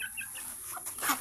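Chicks and chickens feeding on scattered feed, soft clucks and brief high peeps close by, with no talk.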